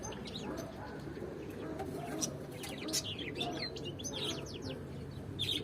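Pigeons in an open loft coo softly amid scattered chirps and flutters, a faint, busy mix of bird sounds with low murmuring cooing throughout.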